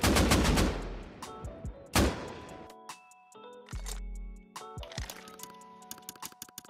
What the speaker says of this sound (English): of course they can start shooting now